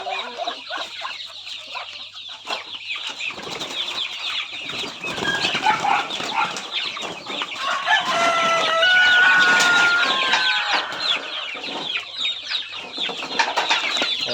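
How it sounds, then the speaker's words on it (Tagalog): Rhode Island and Asil cross chickens kept outdoors cluck and chatter continuously, with a rooster's crow rising clearly in the middle of the flock noise. "Mga Rhode Island saka mga asil na cross yung mga dito sa labas yung mga native papato"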